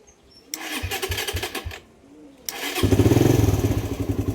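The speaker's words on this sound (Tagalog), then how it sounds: "papaandarin natin yung motor" A carbureted Raider 150 motorcycle fitted with a full-wave stator and regulator cranks in a series of rapid pulses, stops briefly, then catches and runs with a loud, throbbing idle.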